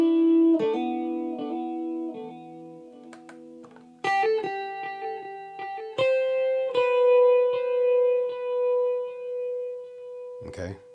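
Electric guitar plays a riff in time, picked notes and chords ringing with a wavering chorus-like effect, close and clear, ending in a short noisy strum.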